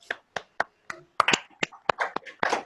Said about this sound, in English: let's give Mr. Moore a great big old Future Kings hand clap